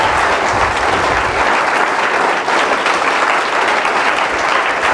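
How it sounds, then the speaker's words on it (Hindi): An audience at a business seminar's closing session gives loud, dense applause, many hands clapping in a continuous roar that holds steady from start to finish without speech. "उनके लिए एक बार जबरदस्त ताली होनी चाहिए"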